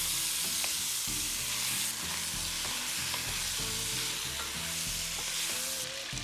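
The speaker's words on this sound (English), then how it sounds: "now we put it in a pot to brown it for 5 to 7 minutes until all the sides of the pork" Pork cubes browning in a pot for an Italian pork sugo, a steady close sizzle and crackle of frying fat with occasional stirring scrapes, continuous throughout with no talking.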